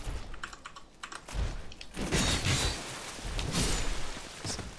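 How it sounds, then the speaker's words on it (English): Lulu stepping on a computer keyboard: irregular clusters of clacking key presses, close and fairly loud, with uneven pauses between the bursts. "Lulu, get off the keyboard please."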